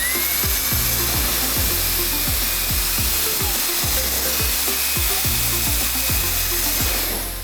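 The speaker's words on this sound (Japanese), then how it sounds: "この吹き飛ばし用のノズル4種類を使って洗車後の水滴を飛ばしてみます" A loud, high-pitched whine of a small Makita cordless electric air duster runs steadily, with repeated bursts of air and spraying droplets as it blows water off a car's hood after washing.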